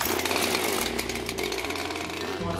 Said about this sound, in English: Now just get your chainsaw,